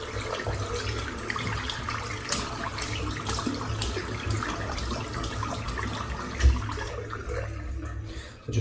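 A shaving brush is rinsed under a running tap, with a continuous close splashing hiss of water and a few louder splatters as the brush is moved through the stream.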